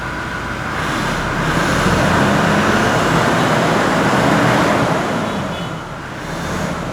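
Toyota Innova Reborn with Lexus-style modifications has its engine started and left running, a steady broad rumble that rises after the first second and holds at even volume, with no talking.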